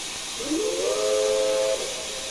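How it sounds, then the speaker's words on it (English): The secondary steam whistle of the LNER A3 Flying Scotsman 4-6-2 locomotive in Train Simulator Classic gives a single steady, chord-like blast of just over a second, rising at the start, over constant hiss. "The secondary whistle."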